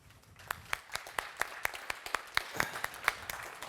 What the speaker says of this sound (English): please give a nice big round applause to Dougie DeLuca from Figment Capital